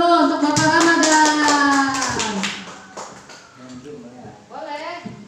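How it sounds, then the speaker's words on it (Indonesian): An indoor audience at a special needs school gathering applauds for a school ambassador, a loud burst of many hands clapping that fades under speech and cheering voices, then rises again briefly at the end. "tepuk tangan dulu untuk Bapak Ramadan."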